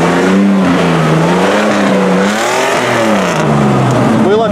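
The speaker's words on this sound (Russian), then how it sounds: "Поехал Wrangler. Вот затирает нормально колеса" A Jeep Wrangler crawls over off-road terrain at a 4x4 event, its engine revving loudly up and down nearby with rising and falling pitch, tires scrubbing on tight turns.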